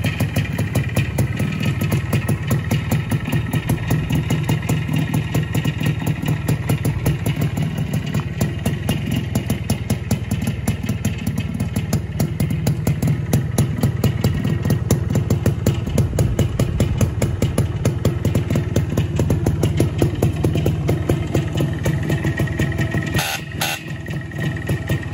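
Steady, close idle of a Minsk MMVZ motorcycle engine, a continuous loud chugging with a characteristic grunting rhythm and faint chain or piston-pin rattle, running alone without voices.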